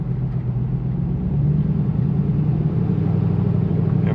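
Ford Crown Victoria fitted with a 7.3L Godzilla V8 driving, a steady low engine rumble heard from inside the car, rising slightly in level partway through and holding a constant drone.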